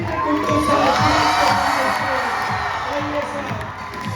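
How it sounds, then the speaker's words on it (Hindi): A workshop audience in Kolkata welcomes a speaker onto the stage with loud crowd noise, cheering, whoops and shouts, alongside what may be an amplified voice and music. "आइए आपकी जोरदार तालियों से हम उनको स्वागत करते हैं इस मंच पर"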